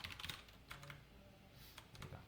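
Quiet, quick clatter of a computer keyboard as SQL code is typed into a MariaDB query, a short irregular burst of soft key taps with no voices.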